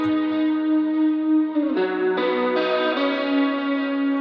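A sustained guitar chord rings out with its reverb pushed high, then shifts through several new chords, each washing into a long, shimmering tail, played alone and clear.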